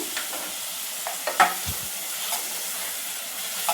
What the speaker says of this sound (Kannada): ಇವಾಗ ಟೊಮೊಟೊ ಫುಲ್ ಸಾಫ್ಟ್ ಆಗೋವರೆಗೂ ಫ್ರೈ ಮಾಡ್ಕೊಳ್ತೀನಿ